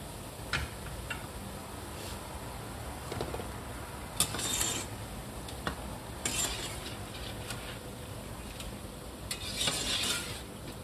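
Drops of boondi batter frying in hot oil for boondi ladoo, a steady soft sizzle with scattered clinks and taps of a metal spoon or ladle, no talking.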